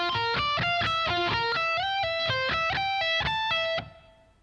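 Close, loud overdriven electric guitar picks a rapid shifting arpeggio phrase from a lick, evenly spaced notes with a short slide, closing on a held note that decays.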